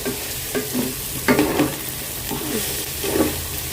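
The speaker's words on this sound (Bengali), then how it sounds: "এই যে মুরগিটা দিয়ে দিলাম ওখানে এটা দিয়ে একটু নাড়াচাড়া করবো" Chicken fries in a pan with a steady sizzle while a utensil stirs it, producing repeated scraping strokes in an irregular rhythm, close and moderately loud with no talking.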